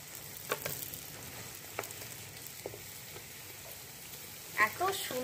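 Bread pakoras coated in gram flour batter and stuffed with potato fry in hot oil, giving a faint, steady sizzle with a few soft clinks and a brief scrape near the end.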